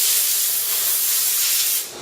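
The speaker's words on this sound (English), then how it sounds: "Use the compressed air to dry it partially." A steady, loud hiss of compressed air drying an alcohol-cleaned MacBook Pro circuit board after liquid spill damage, blowing continuously for two seconds, broadband and close, easing off slightly at the end.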